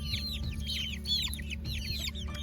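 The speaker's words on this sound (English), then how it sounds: "just threw together this little chicken tractor" Chickens cluck and chirp in short repeated bursts inside a backyard chicken tractor in a garden, near and steady over a constant low background hum, with no talking.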